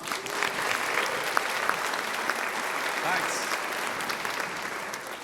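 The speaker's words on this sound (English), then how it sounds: "give a huge round of applause for Jim Dowd at the Dom" Steady audience applause fills a conference hall at a tech event in Dublin's Mansion House, a dense even wash of clapping with a few sharper claps standing out, continuing throughout with no talk.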